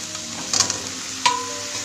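Potatoes are added to beans frying in a pan in an Indian beans aloo masala. Steady sizzling is broken by a cluster of clatters and one sharp knock as the potatoes go in.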